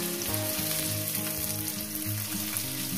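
Chopped onion fries in goat fat oil, giving a dense, continuous sizzle that stays loud and close throughout, with faint stirring and pan sounds underneath and no voices.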